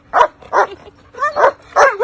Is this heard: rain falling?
no